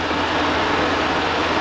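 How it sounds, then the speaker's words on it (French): Steady broadband whooshing and rumbling of an air conditioner running up, a constant roar with no pauses. "il y a la clim qui démarre"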